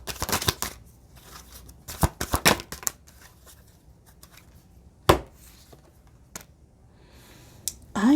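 Tarot cards shuffle in quick papery riffles in short bursts, then pause, with a sharp slap as a single card is drawn and set down near the end.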